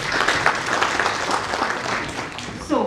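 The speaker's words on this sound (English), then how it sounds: "Applause, please." An audience at a scientific conference applauds after a talk, a close, continuous patter of many hands. A voice rises briefly over the clapping near the end.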